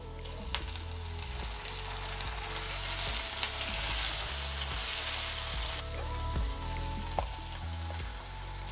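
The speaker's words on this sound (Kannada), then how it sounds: "ಈಗ ಇದಕ್ಕೆ ನಾನು ಟೊಮ್ಯಾಟೊ ಹಾಕ್ಕೊಳ್ತಾ ಇದ್ದೀನಿ." Tomatoes for paneer butter masala sizzle and fry in a pan with onion, garlic and ginger, a steady crackling hiss punctuated by occasional stirring knocks, close and alone without talk.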